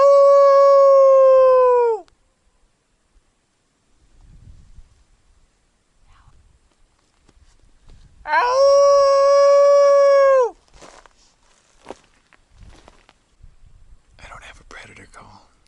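A person's voice imitates a wolf or coyote howl outdoors during a turkey hunt, two long sustained harmonic howls, each about two seconds, loud and close, with quiet rustling and faint sounds between them.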